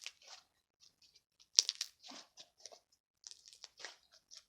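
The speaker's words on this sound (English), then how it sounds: "It's kind of like a crunchy slime." Crunchy blue slime with pink and purple glitter and beads, squeezed and worked by hand, giving scattered short crackly crunches in bursts with quiet gaps, close to the microphone and with no talking.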